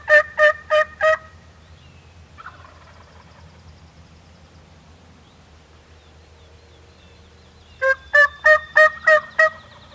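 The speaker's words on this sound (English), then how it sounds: "There's still 2 or 3 gobbling down this way a couple hundred yards." Wild turkeys gobble in a woodland at dawn, a quick run of four gobbles opening the clip and another five later, distant but clear over a low steady background hum.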